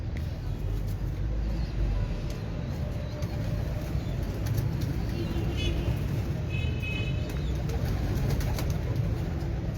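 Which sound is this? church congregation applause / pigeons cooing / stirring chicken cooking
pigeons cooing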